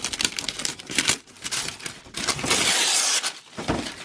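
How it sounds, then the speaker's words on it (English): Figure packaging being unwrapped, with crinkly plastic and paper rustles and tearing in uneven close bursts. "Alright, so let's unwrap this."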